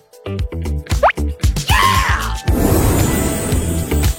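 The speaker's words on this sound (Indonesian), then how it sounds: "Dimulai dengan tetesan kecil." Small drips of liquid falling during a chocolate fondue setup: a quick series of close, wet plops and drips, one with a rising gurgly tone, followed by a denser, continuous trickling spatter.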